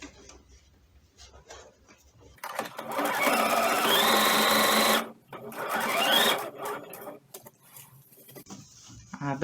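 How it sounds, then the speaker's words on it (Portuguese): A sewing machine stitches fabric for a baby elephant pillow in two loud, fast runs, the second following a short pause, with quieter handling sounds before and after. "Cuidado para não costurar a outra parte"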